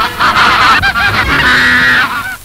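A huge flock of about 21,000 ducks rushing toward feeders at the sound of a bell raises a loud, dense honking and quacking clamor close by, continuous across the moment without speech.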